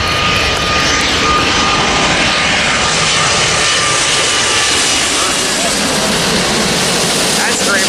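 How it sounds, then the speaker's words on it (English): Loud, steady roar of a Boeing 787 Dreamliner jet on approach to land at LAX, a broad engine rumble that holds for several seconds close overhead, with faint voices underneath. "Right, here comes another Dreamliner approaching LAX."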